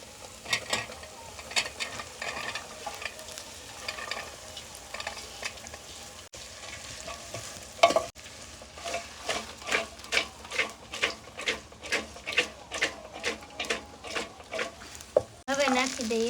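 Okra tossed into fried spice masala sizzles in hot oil, then a spoon scrapes and stirs in a quick, steady rhythm, close by, with some voices in the background.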